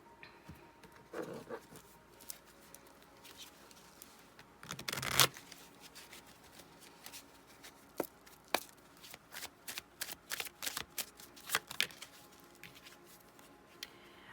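A deck of tarot cards is shuffled close by in a quiet room, with soft riffling and a run of sharp, rapid card snaps and flutters, louder bursts around the middle and later stretches.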